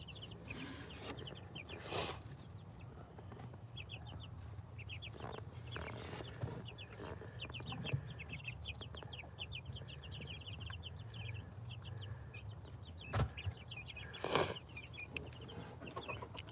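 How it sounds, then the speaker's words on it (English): A flock of chickens clucks and cheeps continuously, with occasional louder squawks and soft knocks nearby. "Little chickens."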